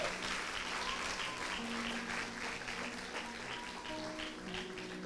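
Church congregation applauding at a Sunday celebration service, a steady broadband wash of many hands clapping at moderate level throughout, with faint sustained tones and some voices mixed underneath.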